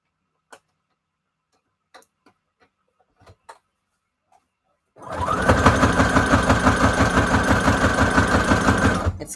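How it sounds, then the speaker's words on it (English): A sewing machine runs a steady, fast, loud stitching rhythm while hemming a scrap-fabric junk journal cover, preceded by a few faint scattered clicks and taps. "kind of sewing over kind of like a hem"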